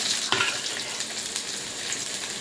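Onions and green chilies fry in hot oil in a pan, a dense, close sizzle with a few small crackles and stirring scrapes, steady throughout with no talk.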